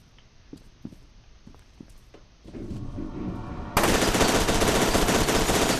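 Machine gun fire in the shooter game F.E.A.R. 2 starts with a few scattered shots, then builds into dense, continuous automatic bursts that grow loud and sustained toward the end.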